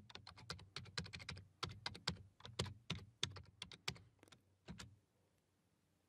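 Rapid keystrokes on a computer keyboard while entering a PowerShell command, clicking in quick bursts with short pauses, close and clear, alone without talk, ending in silence.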